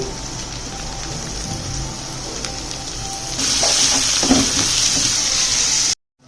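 Chopped carrots go into a hot pan with fried onions and turmeric for fried rice, so a steady sizzle surges louder midway and continues with light stirring scrapes before cutting off abruptly.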